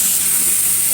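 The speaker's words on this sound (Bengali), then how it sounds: "আর এদিকে ভাজিটা হচ্ছে।" A vegetable bhaji fries in oil in a pan, giving a dense, even sizzle and hiss heard up close for a single unbroken second.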